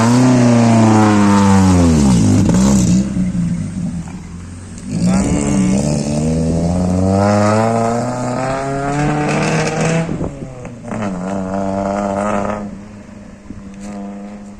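A Honda Civic engine revs hard and close, its pitch climbing and falling in repeated loud sweeps with brief dips between bursts, no talking over it.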